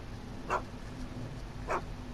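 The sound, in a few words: dog barking in Back to the Future: The Game video game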